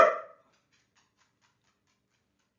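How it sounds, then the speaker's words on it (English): A dog gives a single short bark right at the start, loud and close, followed by near silence. "my dog is barking"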